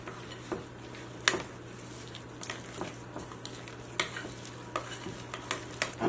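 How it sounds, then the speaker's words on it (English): A spoon stirs a thick granola bar mixture with raisins, dried cranberries and goji berries, giving soft, close scraping and sticky squelches with a few sharper clicks against the bowl. "And then I'm going to stir this together and see where we are."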